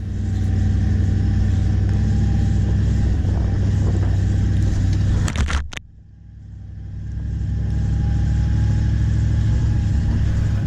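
A 4WD off-road vehicle drives along a beach exit track at Wilbinga, its engine droning steadily and loud, briefly dropping away in a sharp dip before building back to a continuous rumble.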